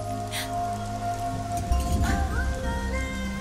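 Steady rain patters on a surface, even and moderately loud, with tonal music playing over it throughout.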